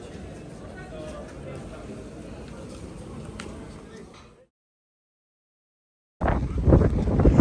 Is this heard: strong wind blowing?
yes